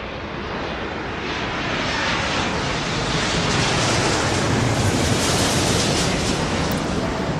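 An airliner takes off in the Airport Madness game, heard as a steady, loud roar of jet engine noise that rises slightly and keeps going the whole time, with no voices.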